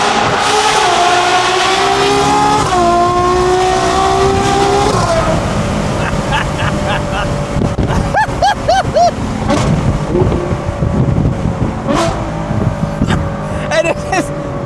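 Koenigsegg sports car fitted with a Mansory exhaust accelerating hard in Dubai, its engine note climbing through gears with sharp pops and crackles; loud and close, with a voice talking over it.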